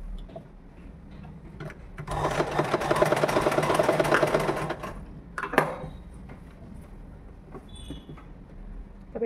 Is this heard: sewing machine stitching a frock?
yes